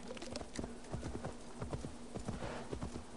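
Steady clip-clop of horse hooves trotting at an even rhythm in the video game Assassin's Creed Valhalla, over a faint constant hum, no voices.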